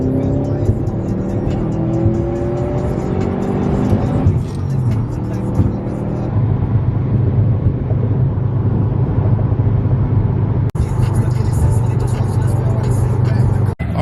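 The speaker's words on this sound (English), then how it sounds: "I forgot about the induction noise that comes out of this thing." Heavily modified Mitsubishi Evo X under hard acceleration, a loud in-cabin engine roar with rising whistling induction and boost tones over the first seconds, then a steady drone, with people talking over it.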